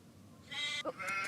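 A sheep in a Nancy Drew video game, set at Castle Malloy, gives a brief wavering bleat, short and fairly clear, heard alone.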